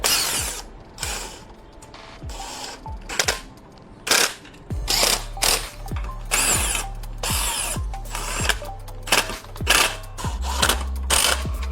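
Screws being driven out by a power tool to mount foot pegs on an Evoltrix MAX-60 electric off-road bike, with repeated short whirring bursts and ratcheting clicks, close and busy.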